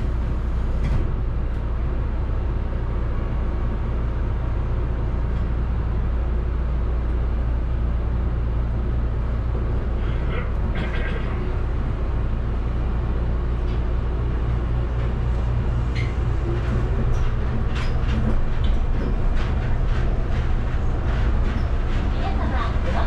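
Rokko Liner automated train running from Sumiyoshi toward Marine Park, a steady low rumble and hum throughout, with onboard announcements heard over the running noise.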